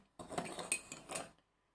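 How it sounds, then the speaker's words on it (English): A teaspoon clinks against a cup while sugar is spooned in, giving about three quick metallic taps close by. The sounds are quiet and end abruptly, followed by near silence. "So I'm going to put 6 teaspoons into that one."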